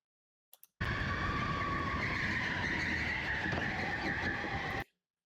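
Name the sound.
race car engine noise in racing video game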